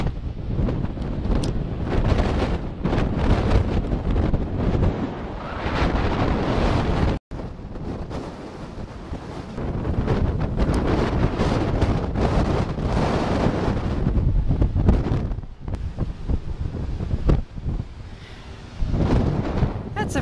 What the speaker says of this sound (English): that's a pretty good wind.